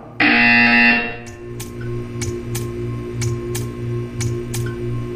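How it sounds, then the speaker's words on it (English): A buzzer from the video game Portal 2 blares loudly for about a second, followed by a soft low hum and a series of regular faint clicks or ticks. "When you hear the buzzer, stare at the art."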